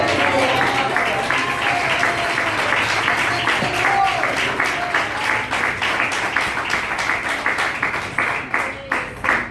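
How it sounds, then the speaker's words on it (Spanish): A church congregation applauds, dense clapping at first that thins toward the end into spaced, individual claps, with faint voices mixed in beneath. "Aunque no diga amén, denle un aplauso."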